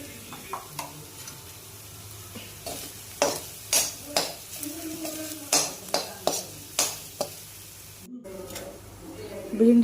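Okra fries in green chili paste in a pan, a continuous sizzle broken by repeated sharp scrapes and knocks of a stirring spoon, with a brief silence near the end and a voice talking over it.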